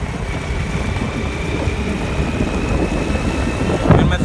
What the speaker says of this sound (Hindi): अब मैं बाइक स्टार्ट करके फिर मैं निकलता हूँ